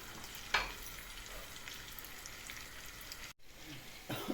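Bread and meat fry in oil in a pan, giving a soft steady sizzle with a brief stirring clatter near the start and another toward the end.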